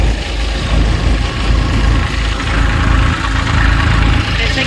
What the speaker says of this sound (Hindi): ये है अपना मॉडल 2021 का, जो फर्स्ट में लॉन्च हुआ था मूंगफली का, गौतम थ्रेसर का, वही मॉडल है अपने पास।